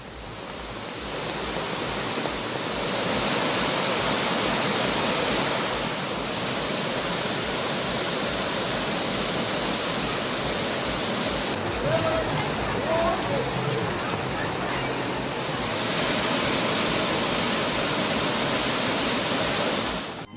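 The Thirparappu waterfall gushes in pouring rain, a loud, continuous roar of rushing water and rainfall that never lets up and swells even stronger toward the end.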